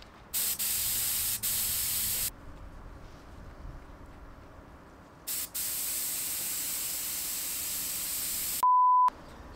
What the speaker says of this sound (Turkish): İlk spreyi vurduk. Violetta rengimizin.